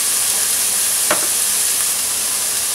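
Vegetables sauté in a hot pan for a tortiglioni carbonara, a steady broadband sizzle running throughout with one brief scrape of stirring near the middle, close and even.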